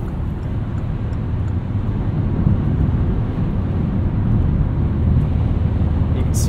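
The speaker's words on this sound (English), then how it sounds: "As you can hear on the highway, not a lot of wind noise." Inside a 2018 Kia Rio EX cruising on the highway, a steady low road-and-engine rumble fills the cabin with only mild wind noise, constant and fairly loud throughout.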